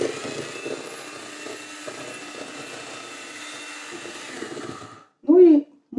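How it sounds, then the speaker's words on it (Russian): An electric hand mixer whirs steadily while whisking charlotte batter, a continuous buzzing drone running for about five seconds before cutting out, with a voice talking over it. "Я добавляю по чуть-чуть, но взбиваю тем же миксером."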